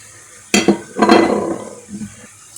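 Garlic dropped into a pan of sizzling caramelized onions, a sharp clattering hiss near the mic followed by a stronger burst of sizzle and stirring that fades, with a brief clink near the end.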